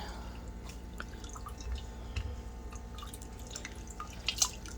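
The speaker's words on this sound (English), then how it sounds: "Doing a crappy job of squishing the water out, of course." Water drips and trickles quietly as a wet Norwex cleaning cloth is squeezed out, scattered soft droplets against a faint background hum.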